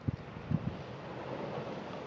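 Wind gusting across the mic on a shore at Hurlstone Point near Bossington. Faint low buffeting thumps come early over a steady airy rush, with no talk.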